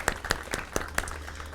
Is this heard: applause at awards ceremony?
yes